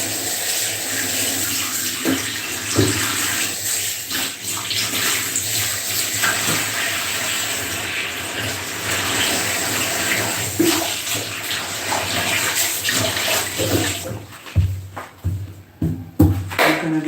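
Tap water runs steadily into a kitchen sink for washing, a continuous near splashing stream that breaks into irregular sloshes and clatter toward the end; no voices.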